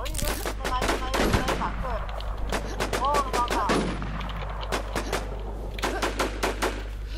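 Bursts of rapid automatic gunfire crack repeatedly in the video game Warzone, with players talking and shouting excitedly over the shooting.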